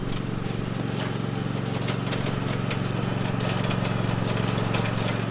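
A lawn mower engine runs steadily through the final mow of a lawn late in the season, a constant close droning hum with faint ticking clatter on top and no talking.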